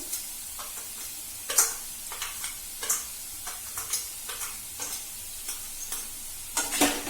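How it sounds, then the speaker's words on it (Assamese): Pumpkin frying with sugar in a pan for halwa, a steady soft sizzle broken by repeated sharp scrapes and taps of a spoon stirring close by. "এতিয়া মই এয়া ৰঙালাওখিনি ফ্ৰাই কৰি আছোঁ।"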